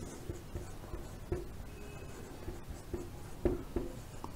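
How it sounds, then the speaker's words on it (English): Pen or marker writing math notes on a board or paper, soft scratchy strokes with a few sharper taps, fairly faint and alone with no talking. "Okay, I can write number of favorable outcomes"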